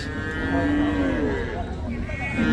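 A cow at a cattle market in Hazratpur, Dhaka, moos close by in a long, low, drawn-out call, followed by a couple of shorter lowing sounds.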